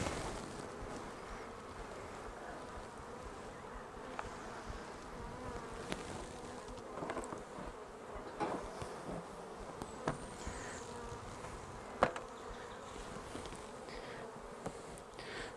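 Honeybees hum steadily around opened beehives, a dense continuous buzz with individual bees passing close and fading.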